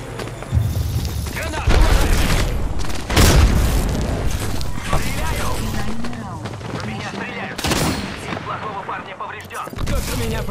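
Video game shootout with rapid gunfire and several heavy booming explosions, loud and close, in irregular bursts while players shout over the action.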